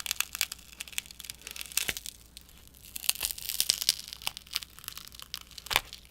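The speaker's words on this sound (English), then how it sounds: "I'll remove the black tape protecting the inner screen side of the hinge." Black protective tape peeled off the inner-screen side of a Samsung Galaxy Z Flip hinge during a teardown, heard as close, irregular crackling and tearing bursts with sharp snaps scattered over several seconds.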